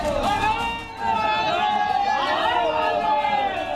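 An angry crowd gathered in the streets, a mass of overlapping shouting voices and agitated babble that stays loud and close, with a couple of brief dips in the din.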